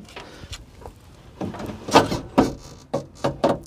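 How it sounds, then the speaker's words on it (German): A VW Fox's left side window glass is pushed slowly down by hand with the door panel off, giving soft rubbing and scraping bursts with a few sharper knocks, close up and fairly quiet. "Jetzt könnt ihr die Scheibe so langsam runterdrücken"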